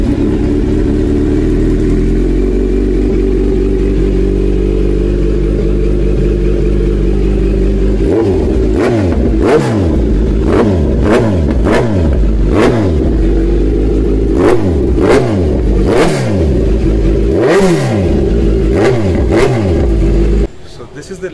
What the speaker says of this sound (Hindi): लेक्सटेक फुल सिस्टम एग्जॉस्ट, इसकी आवाज़ आपको कैसी लगी लेक्सटेक एग्जॉस्ट की ऑन Z900